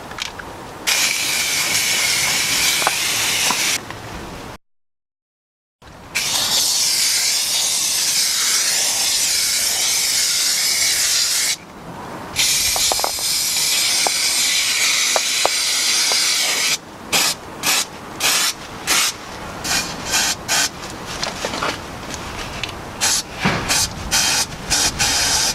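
Underseal coating sprays from a spray gun onto the rusty underside of a car in long continuous hissing bursts, then in quick short pulses toward the end, close and loud, with one brief silent pause.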